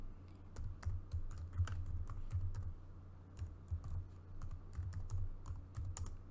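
Steady clatter of typing on a computer keyboard while writing Python code, quick irregular keystrokes in bursts with brief pauses, close and moderately quiet, no talking.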